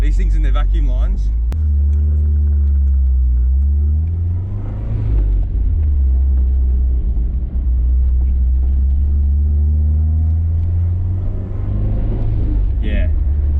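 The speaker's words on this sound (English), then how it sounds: "Okay, turbo's not spooling." A Nissan 180SX engine running with the turbo not spooling, a loud, low, steady rumble that rises and falls through two long revs, heard from inside the car while a person talks over it.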